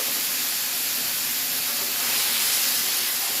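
A cheesesteak filling sautéing with Worcestershire sauce and minced garlic, a steady, close, bright hiss of sizzling that holds level throughout.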